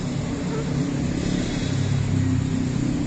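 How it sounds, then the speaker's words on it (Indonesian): Steady traffic from a nearby main road, motorbikes and cars rumbling past in a continuous low drone, fairly loud and constant throughout. "maaf ya karena banyak suara kendaraan bermotor atau kendaraan mobil ya, karena lokasi ini dekat sama jalan raya guys"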